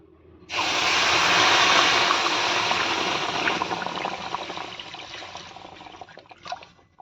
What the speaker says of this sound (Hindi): अब इसके ऊपर हम डालेंगे दूध।